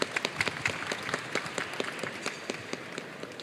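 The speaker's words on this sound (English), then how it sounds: "Can we give him a round of applause?" A room full of people claps for a speaker at a TICAD7 side event on SDG partnerships, a quick, fairly faint patter of many hands at an even pace, lasting a few seconds.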